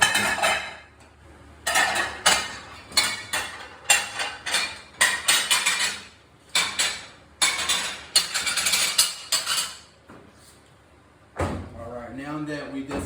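Plates and dishes clatter and clink in bursts while being washed by hand in a lake house kitchen, with sharp ceramic knocks coming close and loud, pausing briefly, then giving way to a running water sound near the end.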